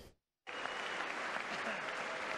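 Members of the US Congress applaud Donald Trump's speech, a dense, sustained roar of clapping that bursts in after a short silence and holds steady at full strength.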